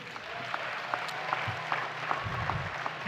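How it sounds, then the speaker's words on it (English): Audience clapping at a Black graduation celebration, a steady round of many hands in a large room, moderately loud with scattered sharper claps and a little crowd noise. "it's a round of applause"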